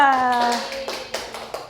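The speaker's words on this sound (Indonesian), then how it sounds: "Tepuk tangan untuk kelompok 2." A voice speaks briefly in Indonesian, then a handful of rhythmic hand claps follow from a classroom group, close and moderately loud.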